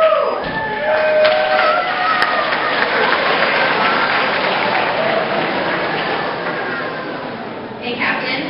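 Homecoming royalty presentation at a regional high school, an audience giving loud, sustained applause with cheering and whoops, a continuous roar that tapers slightly toward the end.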